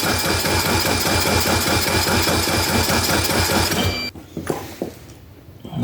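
A small engine on an Ariens/Husqvarna garden tractor, being revived after sitting, is cranked with choke on and starter fluid, a steady loud mechanical chugging for about four seconds before it abruptly stops, leaving faint clunks and rustles.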